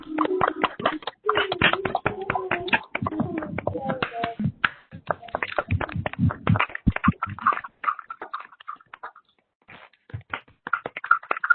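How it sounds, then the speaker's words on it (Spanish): Scattered applause with sharp, uneven claps closes a keynote lecture at a university congress, heard over thin, band-limited audio and mixed with voices talking. "Despedimos al doctor con un fuerte aplauso, por favor"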